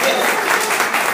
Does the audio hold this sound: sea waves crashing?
no